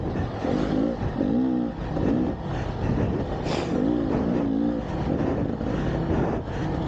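Beta X Trainer dirt bike engine heard while riding on wet ground, revving and easing off in repeated surges with a steady buzzing drone, close and loud throughout with no talk.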